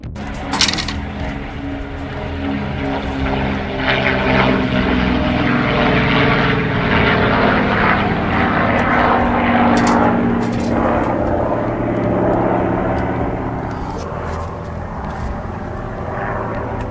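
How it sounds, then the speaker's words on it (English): Propeller planes drone overhead, a loud sustained engine roar with a throbbing low hum that swells and then slowly fades, heard from the ground. "these historic planes soared overhead, with their engines roaring high up in the sky"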